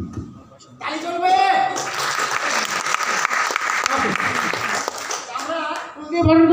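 Loud, sustained applause and clapping from a crowd at a Bio Spray Plus distributor celebration, rising after a brief lull and carrying on for several seconds, with voices calling out at the start and end.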